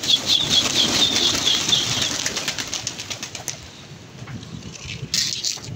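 Pigeon wings flap in a rapid burst at the start, then a steady outdoor rumble continues with a faint flutter near the end.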